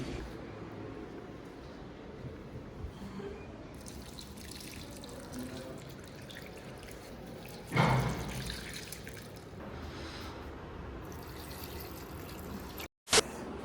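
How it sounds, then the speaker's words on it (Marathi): Water poured out onto a tree at home, a steady splashing trickle running for most of the stretch with a brief louder gush partway through, heard alone without talk. "झाडाला पाणी टाकून देतो"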